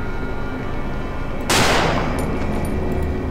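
One sharp, loud gunshot from a heavily recoiling weapon in the horror game Cry of Fear bursts out over a steady, noisy game background, then trails off.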